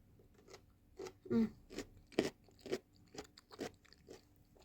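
Close, loud crunching of crisp pickled cucumbers with mustard being bitten and chewed, with a series of irregular crunches and a few softer chewing sounds between them.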